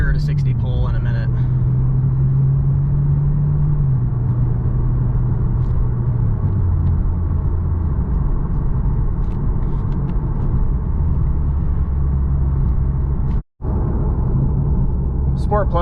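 A 2015 Lexus RC350 F Sport running in Sport Plus mode gives a steady low engine drone with road rumble inside the cabin, its pitch gradually dropping, while someone talks over it.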